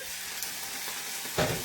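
Shallots sautéing gently in a pan after a little water is added, a soft continuous sizzle with a faint stir or clink near the end, quiet and without talk.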